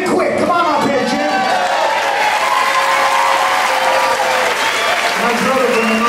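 Loud sustained applause and scattered cheers from an audience at a live concert at The Spanish Galleon, filling the whole stretch with dense clapping while a voice talks over it.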